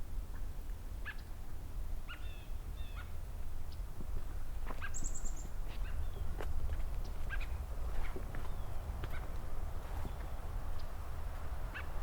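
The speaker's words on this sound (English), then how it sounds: "I've got some American robins talking to each other" Scattered short calls and chirps of American robins, some faint and distant, over a steady outdoor rumble; several birds seem to answer one another during fall migration.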